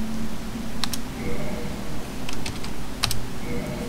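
Computer keyboard typing while entering a character name in Dark Souls, with scattered sharp key clicks in small bursts over a steady low background hum, close and fairly clear.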